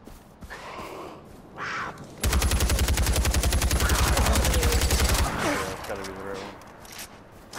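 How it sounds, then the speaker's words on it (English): A hard-hitting gun fires a rapid, loud burst of shots for about three seconds during a rare-animal hunt in Far Cry 4. Talk comes before and after the burst. "Seems to be a really strong, hard-hitting gun, too."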